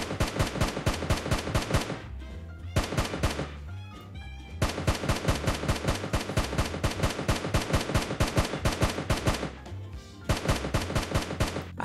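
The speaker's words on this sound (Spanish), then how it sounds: "con la Scar, y miren cómo dispara" SCAR-L rifle in a Minecraft PE weapons addon, firing loud rapid automatic bursts in long rhythmic strings, with brief pauses between volleys.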